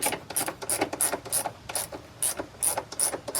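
A ratchet socket wrench with a 7 socket loosens the middle nut on a truck battery, giving a rapid metallic clicking in short, regular bursts close to the microphone, with no talking.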